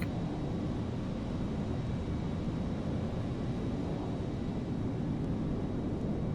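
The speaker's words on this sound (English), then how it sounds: "You can hear the engines." Jet engines of an L-1011 TriStar in a flight simulator during pushback, a steady, loud, broadband roar and rumble that holds constant throughout with no voices.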